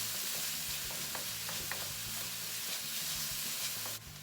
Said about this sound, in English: we're just going to stir this in and, let the pepper and the onion get softened a little bit